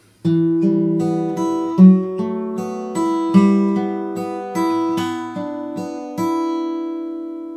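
A plucked guitar plays a slow melody line alone, each note ringing clearly with steady, moderate loudness over about seven seconds.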